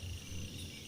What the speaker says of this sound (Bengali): ঝিঝি পোকার ডাক ছাড়া আর কোনো শব্দই নেই।